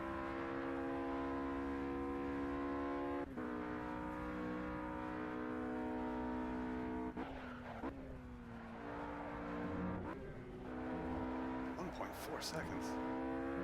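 GT3 race cars lapping Watkins Glen Short in a racing video game, a loud sustained engine drone with shifting pitch, gear changes and brief tire noise near the end, with someone speaking briefly over it.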